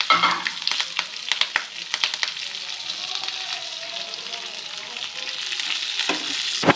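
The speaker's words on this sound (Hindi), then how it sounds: "थोड़ी सी तड़कने की आवाज़ आए तो हम इसमें मिर्ची शामिल कर देते हैं" Green chillies fry in hot oil for a chilli masala dish, giving a continuous close sizzle with scattered crackles and pops, plus some stirring scrapes near the start.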